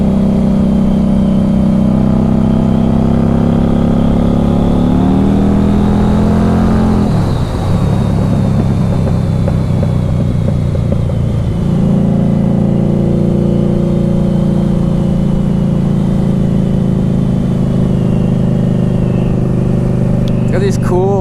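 A 2015 Harley-Davidson XG750 Street motorcycle engine runs steadily and close through a test ride, its low hum dipping midway as the revs shift, then settling back into an even drone.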